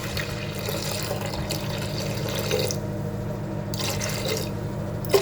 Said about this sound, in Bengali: পানিটা আমি একবারই দিয়ে দেবো